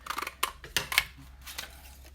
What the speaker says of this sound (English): I'm going to use the other punch so that I get some more of the foil.